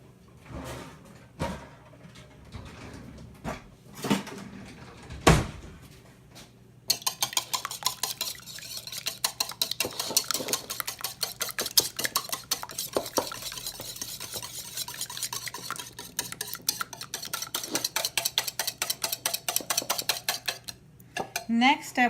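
A whisk mixes wet and dry ingredients for grain-free chocolate chip cookies in a bowl. A few scattered clinks come first, then fast, steady scraping strokes run continuously up close.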